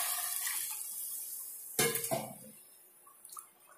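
Hot water is poured into a cooking pot for vegetable rice, giving a brief close splash and clatter in a quiet kitchen, followed by faint small clinks.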